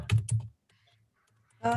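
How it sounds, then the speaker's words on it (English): Fingers type on a computer keyboard during an online meeting, with quick bursts of close clicking keystrokes at the start and end, separated by a near-silent pause. "I'm typing what you just said"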